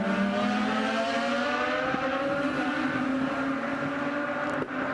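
IndyCar race cars at the 2010 Grand Prix of Alabama in Birmingham scream past one after another, engine pitch climbing through the gears in a sustained, loud whine.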